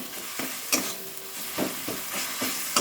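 Spice paste (masala) for a fish curry being stirred and fried in a pan, with soft sizzling broken by several scraping stir strokes, close and fairly quiet.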